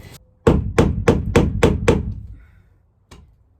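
Hard tapping and knocking comes from a screwdriver working at the window trim of a van, with about seven loud, close, evenly spaced knocks followed by one fainter knock after a pause.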